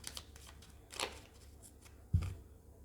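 A deck of tarot cards is cut and shuffled by hand, giving a few soft papery riffles and brushes followed by one brief thump as the stack is set down, quiet and close with no talking.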